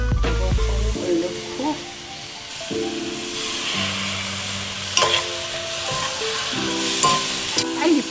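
Round zucchini stir-frying in sesame oil in a pan, with a steady sizzle and repeated stirring and scraping across the clip and no talk over it.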